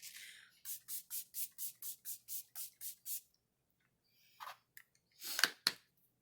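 A rapid series of about ten short pumps of a makeup setting spray bottle in a steady rhythm, close by, followed by a pause and a few more hissing sprays.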